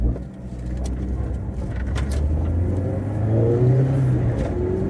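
A Vauxhall Nova GTE 16V turbo pulls away with a steady mid-pitched engine drone that climbs in pitch as it accelerates, recorded from inside the car at a fairly loud level.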